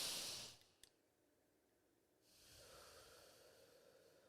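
Slow, deliberate breathing as a calming exercise: a loud breathy inhale at first, a short click, then quiet before a softer, steady exhale-like hiss that continues to the end, no talking.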